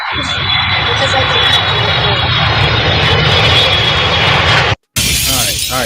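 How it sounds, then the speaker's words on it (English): Airplane engine roaring steadily and loudly as a plane comes in to land, continuous and close with a brief dropout near the end. "All right, Six, land that goddamn plane"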